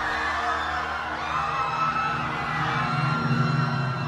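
Panicked villagers in a crowd shout and yell together in a dense, continuous clamour of overlapping voices that stays loud and agitated throughout.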